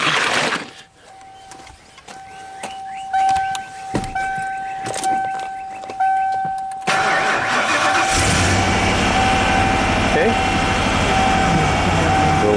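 A rebuilt Ford big-block V8 cranks with a rhythmic starter whine for several seconds, then catches and roars to life, settling into a loud, rough idle.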